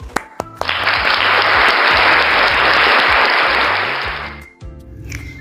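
A burst of loud clapping as children give themselves a hand during a lesson with their teacher, swelling quickly, holding steady for several seconds, then cutting off, with a few isolated taps before and after.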